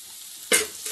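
Homemade egg noodles stirred into frying masala, a quiet simmer broken by one short loud scrape and sizzle midway.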